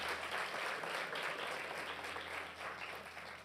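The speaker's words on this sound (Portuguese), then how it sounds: "Você pode aplaudir essas atrizes maravilhosas?" An audience at a church service applauds actresses with steady, dense clapping that fills the room and fades slightly toward the end, with no voices over it.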